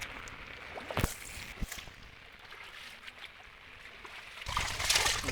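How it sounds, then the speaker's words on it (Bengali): Heavy rain pours down in darkness over flooded ground beside an old watermelon field, making a steady close hiss that swells into a louder rush near the end, with no voices. "চতুর্দিকটা কি পরিমাণে অন্ধকার আর বৃষ্টি পড়তেছে"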